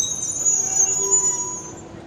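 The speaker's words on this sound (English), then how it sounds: "So I know there's a tram coming" A Melbourne tram passes on its rails in the city centre, giving a high thin wheel squeal over a low rumble that fades as it goes, with no talking.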